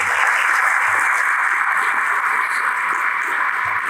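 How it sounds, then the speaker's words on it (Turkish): An audience applauds Ahmet Başkan at a Beylikdüzü gathering with apartment building staff, a steady, dense wash of clapping that holds at an even level throughout with no break. "Ahmet Başkan'a bir alkış alayım sizden"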